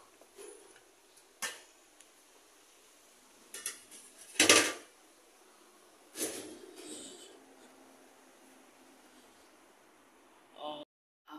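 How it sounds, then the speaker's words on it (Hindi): Dishes being put away after a meal in a home kitchen: a few separate clinks and clatters of plates and utensils, the loudest near the middle, with quiet pauses between them and no talk. "रख रही हूँ बर्तन"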